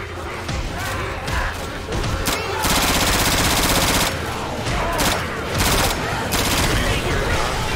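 Dense automatic gunfire and bursts of shots from the zombie shooter game Left 4 Dead 2, loud and nearly continuous, with players shouting over the fusillade.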